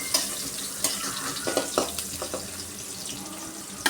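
Onions sauté in a pan for an Odisha-style brinjal curry, giving a steady soft sizzle broken by a few scraping stirs and clinks, close by with no talking.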